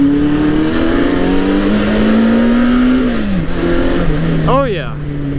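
A 1970 Honda CB500 motorcycle engine, its carburetor freshly re-jetted and bogging slightly off the throttle, drones loud and close, pitch climbing steadily, dipping at a shift, then pulling on again.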